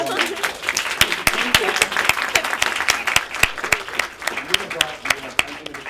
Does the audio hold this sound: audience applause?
yes